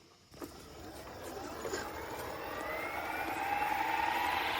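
A Fly Wing RC Huey UH-1, a 450-size model helicopter, starts its rotor with a click and spools up, a whirring whine rising steadily in pitch and loudness at close range.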